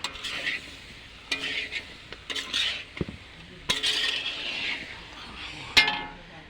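Pachan, a mixed vegetable dish with sweet potato and pumpkin, being stirred in a pot: intermittent scraping bursts and sharp metallic clinks from the ladle against the pot, close and fairly loud.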